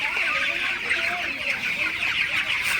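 Sixteen-day-old broiler chickens on a farm cluck continuously in a close, busy chorus, overlapping calls with no pauses.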